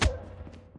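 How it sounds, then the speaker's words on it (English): Magazine change during a reload in Call of Duty Mobile, a close, sharp thud at the start followed by faint clicks and handling taps of the weapon, short and isolated with no talk. "Changing mag."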